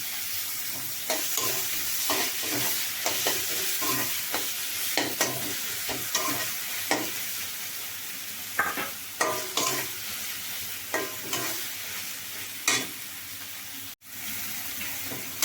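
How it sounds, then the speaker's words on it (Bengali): Tomato and spice masala frying in a pan for a Bengali gulsha tengra fish bhuna, with a steady close sizzle broken by repeated scraping stirs of a spatula, no voices. "মশলাটা ভালো মতন কষিয়ে টমেটোটা কষিয়ে"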